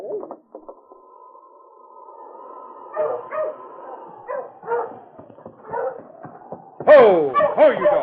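A dog on a snowy Yukon trail barks and yips in short bursts amid whining, tonal whimpers, with a louder volley of barks near the end, sounding close and lively, while a man calls out briefly.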